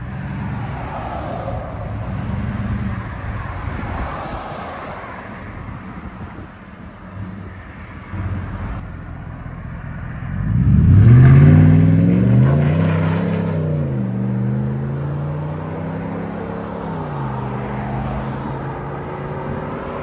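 A car fitted with a Flowmaster Signature Series exhaust drives down the road with a low, steady engine drone and wind rush, swelling into a louder, rising exhaust note midway before settling back to a cruising hum.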